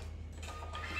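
A Brother QL-700 barcode label printer runs a print, making a steady close mechanical whir and hum with a faint rising rustle as the label feeds out.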